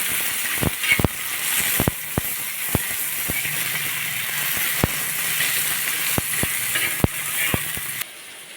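Tomato slices frying together with onion in a pan while cooking a spicy green chilli kharda, a steady close sizzle with scattered sharp clicks and scrapes of a utensil against the pan.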